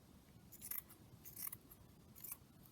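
Scissors cutting lace for a fabric yoyo flower, three crisp, close snips spaced roughly evenly apart over a quiet background.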